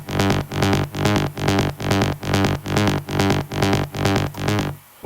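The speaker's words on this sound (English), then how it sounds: "And we have the main drop lead" Main drop lead synth of a techno remix, a dense, bright, buzzy chordal stab pattern pulsing in rapid even rhythm, loud and continuous before dropping away at the end.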